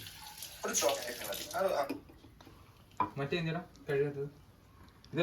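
Tap water splashes intermittently as a glass is rinsed in a kitchen while making a shake, with people chatting over and between the bursts of running water.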